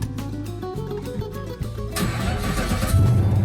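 An old car's engine starts after an owner's maintenance of oil changes and engine work, cranking briefly and then catching into a loud, steady running rumble that holds to the end.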